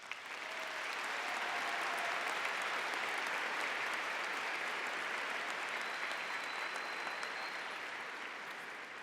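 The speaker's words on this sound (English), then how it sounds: "Please give these people a round of applause." A large graduation audience applauds the class sponsors at a high school ceremony, steady dense clapping filling the hall at even volume for the whole stretch with no voices standing out.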